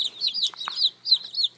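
Several dark Cornish chickens, about five, give soft clucks and high peeping trills close by, the calls rising and falling in short repeated bursts with a couple of brief knocks between.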